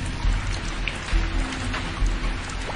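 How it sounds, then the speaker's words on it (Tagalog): Steady rain falls in a continuous broadband wash with a few louder gusts, dense and fairly close, with no voices present. "Umuulan na."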